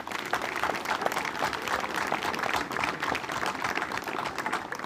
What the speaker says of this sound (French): Et je pense qu'on peut tous et toutes les applaudir.